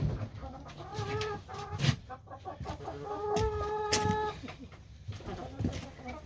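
A backyard flock of chickens clucks and squawks close by in short, irregular bursts, with a person talking quietly at times.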